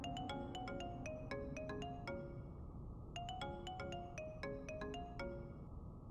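A phone ringtone plays a bright repeating melodic pattern of quick plucked notes in two rising-and-falling phrases, steady and clear over faint background hiss, no talking.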